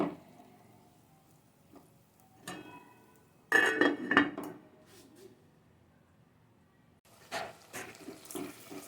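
A lid goes onto a cooking pot of green chillies and tomatoes for lauki chana dal, giving a short burst of metallic clanks and clinks amid quiet kitchen noise and faint running water.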